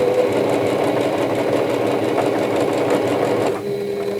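A sewing machine stitching down a quilt fabric block runs steadily with a continuous mechanical whir, then slows and drops off near the end.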